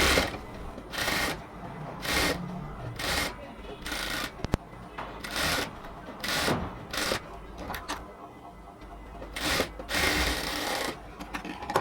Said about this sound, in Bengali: গলাটাকে আমি হচ্ছে পার্ট বাই পার্ট প্রথমেই হচ্ছে স্টিচ করে নেব